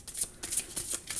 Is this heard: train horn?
no